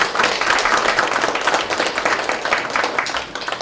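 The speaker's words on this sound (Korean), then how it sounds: "오실 때 박수 한번 부탁드리겠습니다" Audience applause greets a female daegeum player from a fusion Korean traditional music group as she comes on for an opening performance at a meditation conference, a dense, steady wash of many hands clapping for the whole stretch.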